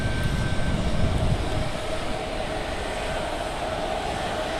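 An EasyJet Airbus A320neo arriving at Manchester Airport, a steady broad engine roar heard from a distance with a faint tonal whine, slightly louder at first and then holding even, with no talking.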